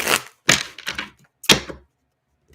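A tarot card deck is shuffled up close in a few quick, papery riffles and taps, separated by brief pauses, with no voices.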